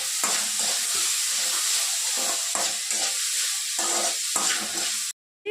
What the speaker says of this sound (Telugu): ఇప్పుడు దీంట్లో మనం ఒక పెద్ద సైజ్ టొమాటో వేసుకొని ఫ్రై చేసుకుందాం.